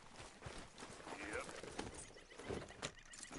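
A horse in Red Dead Redemption 2 moves from a walk into a trot, its hooves clopping in a loose rhythm with an occasional snort or whinny, under game ambience and a brief spoken reply.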